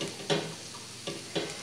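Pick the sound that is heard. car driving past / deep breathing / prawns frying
prawns frying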